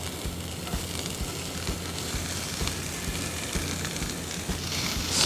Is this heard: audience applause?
no